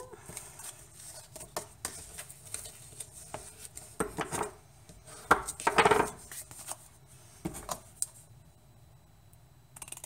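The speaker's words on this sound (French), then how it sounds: "je coupe les petits rabats" Small flaps of a square card box being cut with scissors: sparse snips and light papery clicks with a brief louder crunch in the middle, faint and close in a quiet room.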